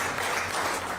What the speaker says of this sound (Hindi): दोनों तरफ कतार में खड़े पीएमओ कर्मी तालियों से उनका वेलकम कर रहे थे।